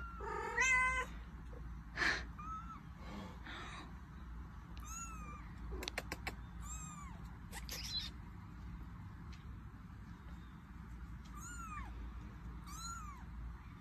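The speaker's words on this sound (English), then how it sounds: "her cat Kitty has a baby." A cat meows and yowls in several bursts, some close and loud, others softer, with a few sharp clicks between calls, in an otherwise quiet room.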